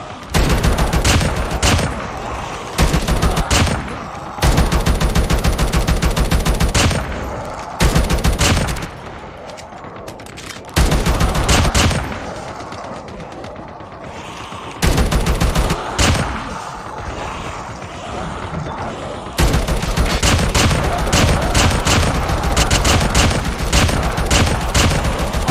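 Loud, rapid bursts of automatic gunfire in a video game, fired in repeated volleys separated by short pauses and heavy overlapping shots.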